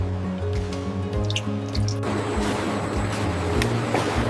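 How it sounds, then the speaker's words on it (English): Warm chocolate ganache pours over rotating cakes on a factory decorating line, a soft continuous liquid drip and splatter set against a steady droning machine hum. "Warm ganache pours slowly over rotating cakes."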